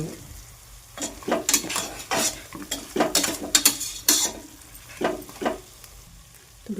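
A spice mix fries in a pan as filling for stuffed brinjal, with a soft sizzle under a run of clattering spatula strokes and utensil knocks against the pan, busiest in the middle and easing off near the end.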